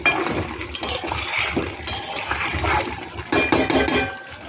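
Paneer water poured into a cooking pan on a gas stove, a steady liquid splash and trickle with light clinks, close and fairly loud, running alone for a few seconds.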